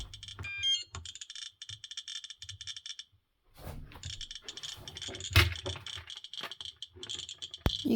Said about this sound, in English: Now if I bring this radioactive scintillation detector beside it